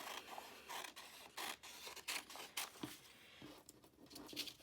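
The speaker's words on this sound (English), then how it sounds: "So I'm going to take my scissors. I'm going to cut this out on the lines." Scissors snip through paper while a rectangle is cut out along printed lines, a faint close run of irregular crisp cuts and rustles with short pauses between.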